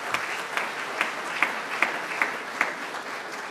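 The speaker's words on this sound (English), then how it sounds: "Let's all give them a warm round of applause." A Rotary club meeting audience gives a warm round of applause, a steady soft wash of many hands clapping with a few sharper claps standing out at regular intervals, moderately distant and without talk.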